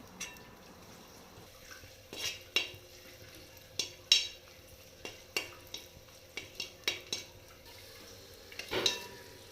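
Cashews and raisins frying in ghee while jackfruit payasam is made: a low sizzle runs beneath repeated sharp clinks and scrapes of a spoon stirring against the pan, in irregular clusters, with no voices.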